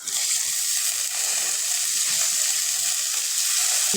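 Green bean pods tossed into a hot pan of oil fry with a loud, steady sizzle that hisses continuously without pause, close to the listener, with no talking.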